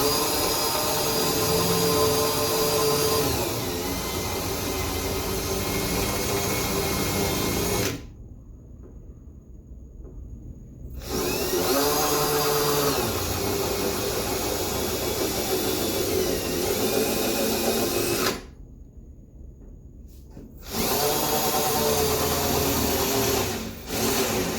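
A power drill whines in several long runs, stopping twice for a few seconds of near silence between bursts, loud and close.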